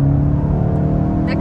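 A manual VW Golf 8 GTI hums along at steady speed from inside the cabin, a smooth low engine drone, with a brief rise near the end.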